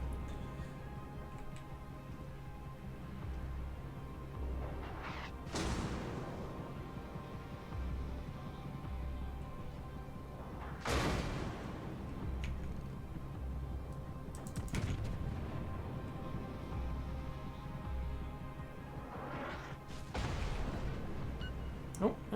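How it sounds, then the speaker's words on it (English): Naval guns fire in a warship video game, armor-piercing salvos landing as a few sharp booming blasts spaced several seconds apart over a low steady hum and faint clicks. "Wait, the Clemson is firing armor piercing at me."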